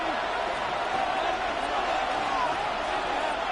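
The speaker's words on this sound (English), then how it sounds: "This crowd turning up the decibel level." A packed football stadium crowd during an NFL Detroit Lions game roars as a steady, dense wall of noise, holding loud and continuous throughout with no breaks.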